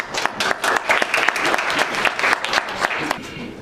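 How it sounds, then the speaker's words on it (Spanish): A fairly loud burst of audience clapping welcomes a speaker to a talk on environmental deterioration and health, dense overlapping claps sustained evenly for several seconds. "Pues damos la bienvenida con un aplauso a la doctora."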